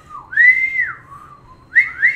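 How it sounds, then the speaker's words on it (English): A person whistles by sucking air inward, producing a loud, wavering tone that slides up and down, then breaks off before two short final chirps, with no talking. "I did the loudest whistle I could do."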